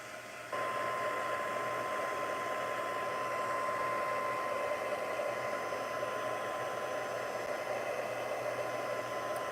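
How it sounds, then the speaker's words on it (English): A heat tool blows on a damp craft project, starting with a click and then running as a steady, even whooshing hum with a faint whine, close and unbroken, with no talking. "Let's go ahead and hit this with the heat tool too, because I know it's still damp."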